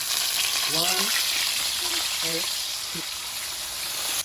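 Tilapia frying in oil over an outdoor wood fire, a steady broadband sizzle heard up close, with brief voices breaking in over it.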